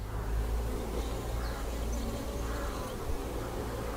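A soft, steady buzz of a queen bee in flight hums over low background rumble, fairly faint and unbroken, with no talking.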